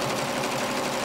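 A sewing machine stitching machine appliqué runs in a steady, close, continuous whir with fast, even needle strokes and no pauses.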